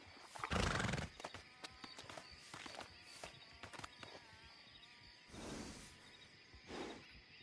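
Horse in the Red Dead Redemption 2 video game giving a loud neigh, followed by scattered clip-clop hoofbeats and two softer snorting whinnies, with no talk.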